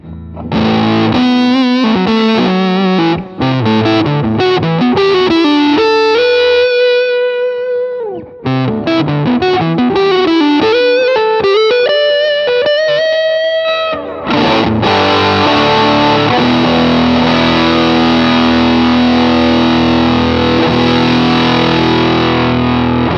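Electric guitar through a Big Muff-style fuzz on a Line 6 HX, heavily distorted with thick fuzz, sustained notes and bends, then a dense wall of fuzzy chords in the second half, loud and continuous.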